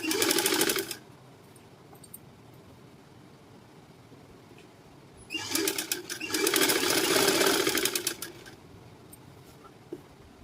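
A sewing machine stitches a collar on a halter neck in two bursts, a short run and then a longer one of close, fast, rattling whir, with quiet pauses between.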